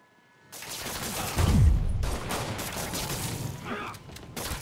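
Gunfire erupts in Marvel's Spider-Man, a rapid fusillade of shots with a heavy low boom near the start, dense and loud, with a voice briefly mixed in.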